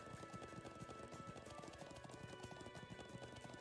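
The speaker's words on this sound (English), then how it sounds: "I'm glad I still remember how to ride a horse." Horse hooves gallop at a fast, steady rhythm in the video game Trails of Cold Steel II, a continuous clip-clop heard alone and fairly close, with no talking.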